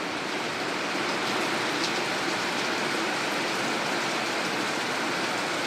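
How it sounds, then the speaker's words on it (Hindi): Steady, dense rain pours onto wet potted adenium plants and soil mix, a constant loud hiss with no letup and no voices. "सब तरफ इधर पानी पूरा का पूरा, पूरे प्लांट भीग रहे हैं"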